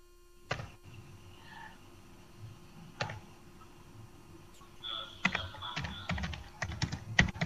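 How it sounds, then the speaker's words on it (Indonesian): Computer keyboard typing heard in bursts, sparse clicks at first then a quicker run of keystrokes, close and moderately quiet with no talk over it. "Kedengaran banyak ketikanya."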